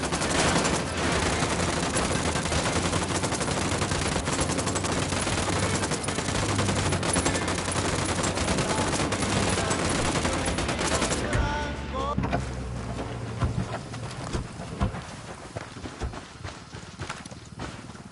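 Dense, sustained gunfire from a Ghost Recon Wildlands firefight, rapid shots layered with loud game noise for about eleven seconds, then fading to sparse pops and rumble.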